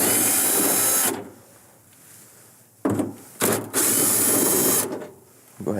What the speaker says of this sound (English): So to remove the lower panel and the upper panel, they are using 1/4-inch screws.